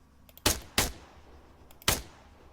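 Three sharp rifle gunshots in Arma 3, fired in an uneven rhythm: two close together, then a pause before a third, each with a short reverberant tail and quiet between.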